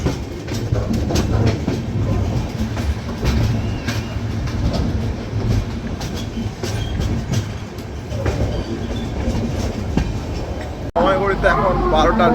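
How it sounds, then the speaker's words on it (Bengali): A train rolls into Visakhapatnam station on a long-distance run from Kharagpur to Hyderabad. Steady wheel rumble and rail clatter continue close by throughout, with voices talking over it. The noise cuts briefly near the end, then resumes. "বিশাখাপত্তনম ঢুকছে ট্রেন।"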